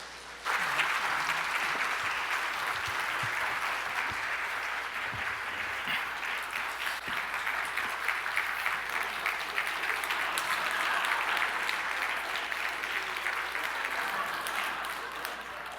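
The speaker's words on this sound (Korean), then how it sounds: "우리 기쁨으로 박수로 여러분 맞이하겠습니다." A church congregation claps to welcome a pastor to the front, a full, steady burst of applause that starts abruptly and carries on for over fifteen seconds at an even, loud level.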